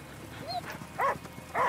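Dog barking in the video game Last Day of June: two short, yelping barks about half a second apart, fairly close, following a brief whine, with game ambience behind.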